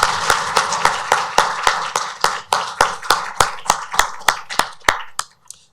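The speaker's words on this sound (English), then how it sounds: "Will you join me in giving them another round of applause?" A symposium audience gives a round of applause at a law review event, heard as a small group's distinct, rhythmic claps that stay close and steady before thinning out and stopping near the end.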